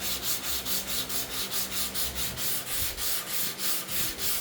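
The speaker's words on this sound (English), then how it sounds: "And I'm just lightly sanding the surface." Sandpaper at 220 grit on a block, rubbed lightly by hand across a motorcycle fuel tank: a close, even back-and-forth scratching in a steady rhythm of about three strokes per second, heard alone.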